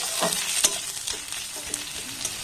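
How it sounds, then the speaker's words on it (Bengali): Grated ginger stirred into lightly browned fried onions in a pan, a crackling sizzle punctuated by several scraping strokes of a spatula, close and moderately loud without any speech. "এবার মধ্যে এক চামচ গ্রেট করে রাখা আদা দিয়ে দিলাম আদাটাকে একটু নাড়াচাড়া করে নেবো"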